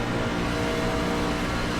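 A NASCAR Truck Series race truck roars past on the outside at Daytona, a loud continuous engine drone filling the short moment.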